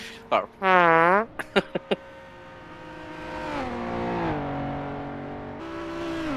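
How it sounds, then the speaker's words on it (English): Racing car engines, including a Jaguar and a 5-litre Aston Martin, roar and rev as they accelerate out of a hairpin, pitch climbing and shifting, with a sharp whining burst early and a deeper growl sustained after. "So funny hearing both engines as the cars power out of the hairpin."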